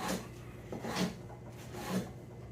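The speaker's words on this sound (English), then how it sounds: "we'll cut it up into fairly large chunks" A knife slicing fresh pineapple into chunks on a board, three soft scraping cuts spaced about a second apart, quiet and close.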